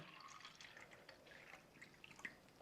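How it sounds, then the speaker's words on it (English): Tap water trickles and drips softly into a glass holding a little tea, a faint, thin pouring sound heard alone and close, ending in a brief louder clink. "we're going to add some tap water to that little bit of tea that's there"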